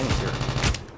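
Dense, rapid gunfire from COD Mobile ranked match, a loud continuous burst of automatic shots filling the whole second with no talk over it.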